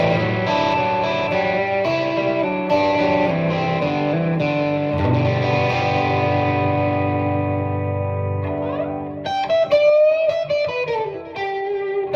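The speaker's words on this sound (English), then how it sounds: "Has a lot of nice echo and chorus and flanger effects." An electric guitar plays through a Fender Mustang GTX100 amplifier with echo, chorus and flanger effects: sustained chords and single notes ring with a thick, swirling tail. A busier burst of notes comes near the end. The playing is loud and steady, with no talking.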